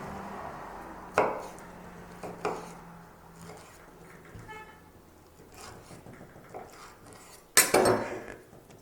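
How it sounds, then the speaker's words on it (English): A knife rough-chopping nectarines on a board, with sparse irregular chops and clacks, a couple of louder knocks and a brief clatter of utensils in a quiet room. "And we're gonna rough chop these."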